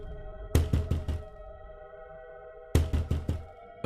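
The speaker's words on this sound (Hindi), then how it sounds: "फिर वह उस घर का दरवाजा खटखटाती है" Knuckles rap on a house door at night in two close, loud bursts of about four quick knocks each, separated by a pause, with another knock starting at the end.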